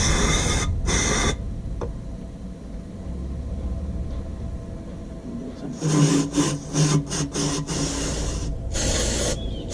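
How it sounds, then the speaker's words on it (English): A gasket surface on a 1999 Kia Sportage engine is cleaned with bursts of spray and scraping, rubbing strokes, close up, with a faint engine-bay rumble underneath. "Just clean up this gasket."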